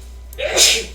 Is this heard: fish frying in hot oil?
no